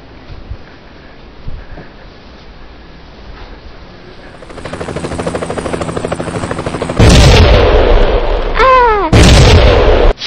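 A helicopter in a homemade toy war battle scene, its whirring rotor building loud and steady, then overtaken by loud blasts and booming explosions with a swooping whistle, all without talk.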